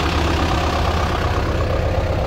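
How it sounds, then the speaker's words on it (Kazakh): A Mercedes-Benz 814 truck from 1998 with a 4-litre engine runs steadily at idle nearby, a dense, continuous low diesel rumble with no talk. "Азыр эле жүргүздүм моторун, ошол үчүн мындай үнү болуп 814-чү моделде мындай грузовой гигант."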